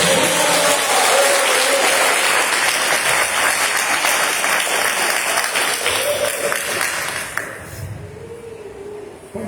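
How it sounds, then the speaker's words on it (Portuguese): A church congregation applauds, sustained dense clapping from many hands filling the room, loud and continuous before thinning out and fading near the end. "E as palmas glorificam o nome do Senhor."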